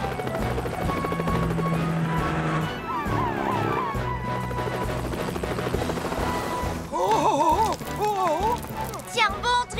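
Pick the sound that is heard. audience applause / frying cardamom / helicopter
helicopter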